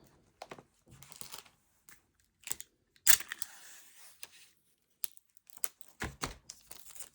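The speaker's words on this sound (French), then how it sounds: "Puis là, vous mettez du scotch." Crinkly tearing and peeling sounds of sticky tape being pulled and applied come in short bursts, with one sharper rip in the middle, close and fairly quiet, with no talking.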